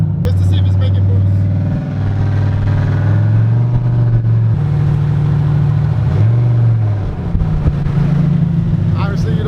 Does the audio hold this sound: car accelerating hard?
yes